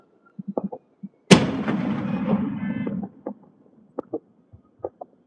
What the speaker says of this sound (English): So that's just somebody, like, private fireworks.